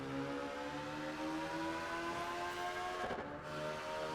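Racing car engine in Project Gotham Racing 4 droning steadily at high revs as it echoes through a tunnel, with sustained tonal harmonics and a brief whooshing shift near the end.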